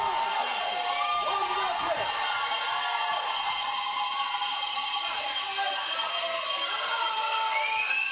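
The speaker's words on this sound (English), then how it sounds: "the crowd is going wild" Spectators at a women's skeleton World Cup race in Calgary cheer and whoop steadily as a dense, continuous crowd roar, with scattered shouts rising above the wash throughout.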